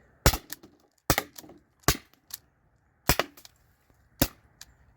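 An air-powered pistol running low on gas fires repeatedly: about eight sharp, close cracks spaced irregularly, each with a short tail, over near silence.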